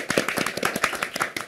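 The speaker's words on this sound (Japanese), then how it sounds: "拍手" Studio applause on a Japanese trading card game web show, a brief, dense burst of many hands clapping at close range, with no talk over it.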